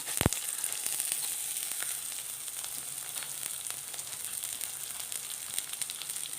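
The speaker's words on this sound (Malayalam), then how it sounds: "നന്നായിട്ടൊന്ന് മൂത്ത് വരണം വറ്റൽ മുളകും ഉഴുന്ന പരിപ്പും" Dried red chillies and urad dal roast in hot coconut oil with curry leaves in a pan, giving a steady, moderately loud sizzle with scattered crackles and a sharp pop near the start, with no talking.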